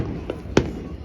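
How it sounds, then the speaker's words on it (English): Fireworks over Captain Cove Marina in Quincy, Massachusetts: two broad bursts, a softer one followed by a louder sharp crack, heard from a short distance, with people talking around them. "Right here, watch the fireworks."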